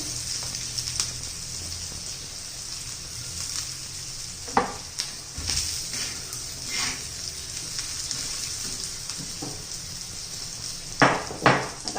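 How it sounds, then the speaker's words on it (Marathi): Green chillies sautéing in hot oil in a pan, a steady soft sizzle with occasional clinks and scrapes of a stirring utensil against the pan. "मिरच्या आपल्या आता तेलामध्ये परतून झालेले आहेत, अशा मऊ झालेले आहेत"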